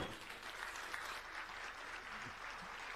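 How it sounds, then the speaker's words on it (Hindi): A large audience gives a standing ovation for Chief Minister Mohan Yadav at the opening of a grand Bundeli gathering: dense, steady, loud applause that fills the hall without pause. "खड़े होकर अपने स्थान पर तालियां बजाएं हमारे मुख्यमंत्री जी के लिए"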